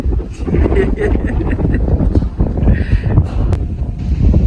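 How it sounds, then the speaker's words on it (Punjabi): Strong wind blowing dust and sand buffets the microphone in heavy, rumbling gusts, with faint voices talking underneath. "ਤੇਜ਼ ਹਵਾ ਹੋ ਗਈ ਆ ਮਿੱਟੀ ਉੜ ਉੜ ਕੇ"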